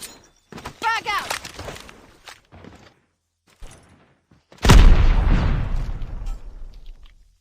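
A frag grenade detonates in a video game: one loud, close blast with a long rumbling decay, following several seconds of talking and quieter game noises.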